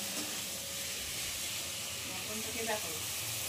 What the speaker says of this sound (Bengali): আর এইদিকে ও মাংস রান্না শুরু করে দিয়েছে